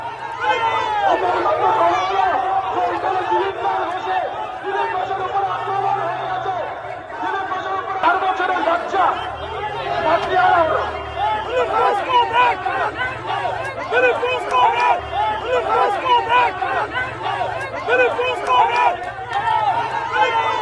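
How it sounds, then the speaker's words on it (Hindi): A crowd of party workers shouts slogans at a farmers' Bharat Bandh protest. The chanting is loud and rhythmic, rising and falling amid dense crowd babble and jostling. "सुन लेते हैं वहां पर जो भीड़ क्या नारे लगा रही है।"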